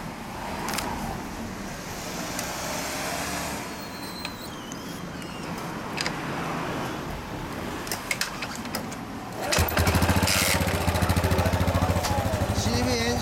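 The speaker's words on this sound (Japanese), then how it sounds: "SR エンジン消してもらえる？" A 2014 limited-colour Yamaha SR400 cafe racer motorcycle idles with a steady engine rumble, turning into a louder, more pulsing throb in the last few seconds, while people talk nearby.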